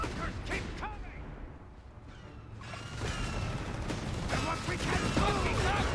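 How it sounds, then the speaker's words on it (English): Mines explode during a Company of Heroes 3 real-time strategy battle, with dull booms and scattered battlefield gunfire and mechanical noise building through the scene, under a caster's steady commentary. "Mines continue to explode."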